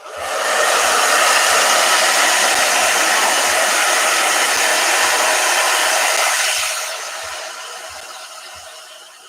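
A blow dryer runs loud and steady during a miniature painting session, its airy roar holding strong before dropping to a lower, softer whir partway through, with faint soft ticks underneath.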